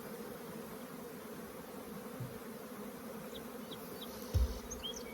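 Honeybees buzz steadily but softly at an open hive being split, a low continuous hum with a brief close bump near the end.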